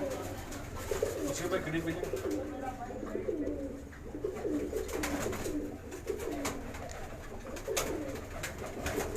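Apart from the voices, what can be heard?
pigeons cooing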